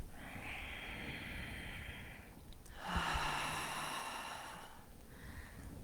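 Slow, soft breaths through the nose and parted lips, one long airy exhale followed by a louder, rushing inhale and another gentle release, close and quiet with no talking.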